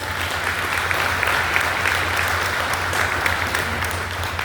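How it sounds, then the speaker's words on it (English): At a chamber of commerce banquet, a roomful of guests applauds a group of kids with steady, dense clapping that holds at an even level for several seconds, with no one speaking over it. "Let's give them a round of applause"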